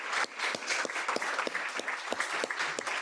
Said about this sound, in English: let's please give a round of applause to this year's winners